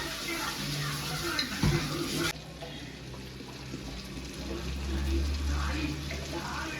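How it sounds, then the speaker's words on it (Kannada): Marinated chicken frying in butter: a steady sizzle and hiss runs throughout, with a few clinks and stirring knocks early on, then quieter continuous frying with low background rumble. "ಈಗ ಸೊ ಬೆಣ್ಣೆ ಹಾಕ್ಬಿಟ್ಟು ಫ್ರೈ ಮಾಡಿ"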